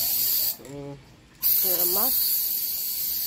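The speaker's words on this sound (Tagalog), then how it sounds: "I will just put a spray for mosquitoes flying" Aerosol mosquito spray hisses in steady close bursts on a third-floor room in Bacolod City, cutting off briefly while a voice speaks, then resuming loud and continuous.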